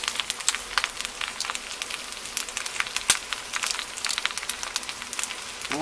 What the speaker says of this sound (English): once it starts to snap, crackle, and pop, I just add a little bit of water to it